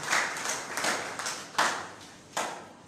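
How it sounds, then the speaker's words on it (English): Applause from a summit audience greeting a speaker, a short burst of clapping with several swells of many hands, fairly close and with no voices over it. "With a very big round of applause, let us give it to our speaker"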